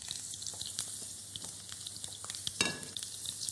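Onions and garlic for a potato stuffing frying in a pan, a steady close sizzle with scattered crackles and light stirring scrapes, no one talking.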